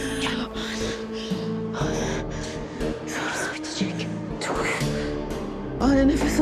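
A woman gasps and struggles for breath in ragged, strained inhalations, close and distressed, over dense dramatic music.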